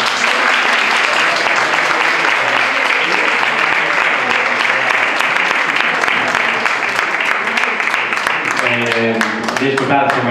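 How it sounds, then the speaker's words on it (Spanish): Loud, sustained applause from a book club audience thanking writer Luis Landero at a literary gathering, continuous dense clapping throughout, with a voice starting to speak over it near the end. "le damos las gracias con un aplauso"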